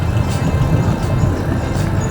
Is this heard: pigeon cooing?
no